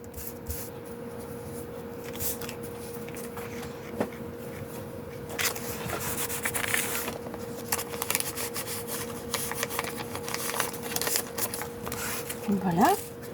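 Rubbing to remove glue from a junk journal pocket: soft, uneven scraping and brushing strokes, close but fairly quiet, over a steady low hum, with a brief higher squeak near the end.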